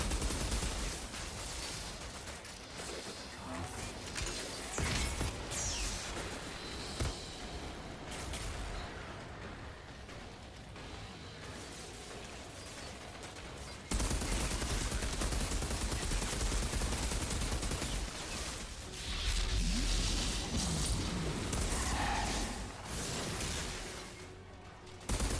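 Video game gunfire rattles steadily throughout, loud and close in bursts, with dense shots continuing over a busy game soundscape and no clear speech.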